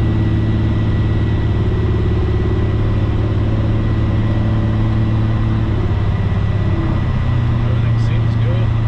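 A 1955 GMC pickup truck engine drones steadily while driving, with a constant low hum and rumble of road noise, close and even in loudness.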